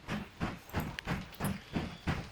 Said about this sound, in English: I'll have to wait for this train to pass.